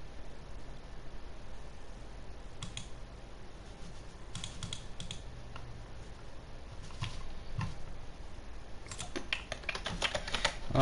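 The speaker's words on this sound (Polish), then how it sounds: "Jest strasznie słychać w ogóle klawiaturę w tle." Bursts of keyboard typing during a Fortnite game, quick clicky key presses in short clusters separated by pauses, over a faint background hiss.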